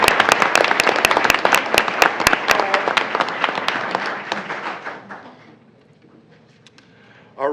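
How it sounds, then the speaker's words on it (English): Audience applause at a school board meeting, dense clapping from a crowd that holds strong for several seconds, then thins and fades to near silence before a brief final sound. "a round of applause for her family who are here in attendance as well"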